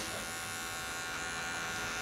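Electric hair clippers buzz steadily while cutting hair for a low skin fade at a 0.5 guard setting, a continuous close hum with no voices.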